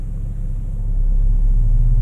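A 2017 Volvo V90 Cross Country's engine in dynamic mode holds higher revs, a loud, steady low rumble from inside the cabin that builds slightly over a couple of seconds.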